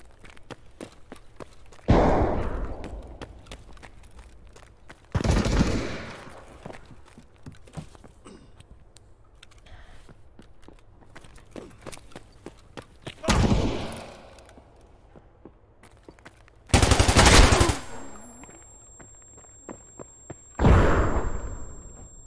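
Mosin bolt-action rifle shots in Escape From Tarkov ring out as five loud, separate cracks spaced several seconds apart, each with a short echoing tail over quiet background footsteps.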